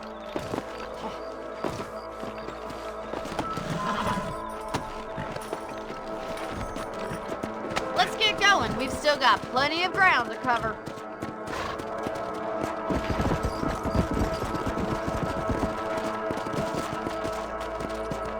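Horses' hooves clip-clop at a trot in the video game Red Dead Redemption, a steady rhythmic patter mixed with saddle and gear noise under a character's spoken line.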